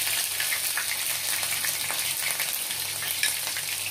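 Onion paste hits frying onions in a pan of oil for a chicken curry with potatoes, giving a loud, dense, continuous sizzle with faint crackles throughout.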